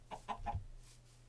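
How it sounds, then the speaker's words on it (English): Chickens cluck in a blocky Minecraft-style game, with three short clucks in quick succession, fairly faint, followed by quiet. "I hear a chicken down there."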